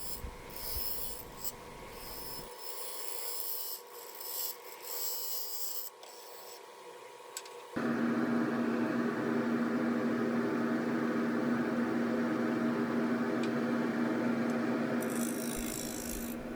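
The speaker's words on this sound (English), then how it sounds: "Using the bowl gouge to flatten out the bottom and establish the area of the mortise or foot" A bowl gouge cuts across the bottom of a spinning wooden bowl on a lathe, giving a continuous scraping, rushing hiss that starts quieter, drops away briefly, then returns louder and steady, close up with no talking.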